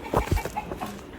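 A few short clucks from backyard chickens, close and moderately loud, in two or three quick bursts with no talk.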